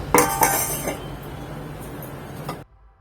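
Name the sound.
lid being placed on a cooking pot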